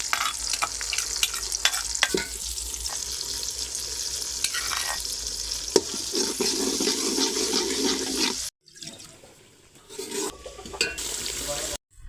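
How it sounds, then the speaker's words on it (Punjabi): Onion, ginger, garlic and green chillies fry in a pan with a steady close sizzle and stirring scrapes, broken near the end by a brief drop to quiet before the sizzle resumes; no talk. "ਪਿਆਜ਼ ਸਾਡੇ ਨਾਲ ਕੁਝ ਨਰਮ ਹੋ ਗਿਆ ਤੇ ਅਦਰਕ ਲਸਣ ਤੇ ਹਰੀਆਂ ਮਿਰਚਾਂ ਮੈਂ ਪਾਤੀਆਂ ਨੇ ਵਿੱਚ"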